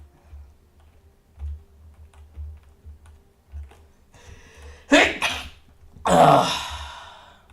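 Faint keyboard clicks and soft thumps at a computer during a game session, then a sudden loud sneeze up close, followed by a second sharp burst of breath.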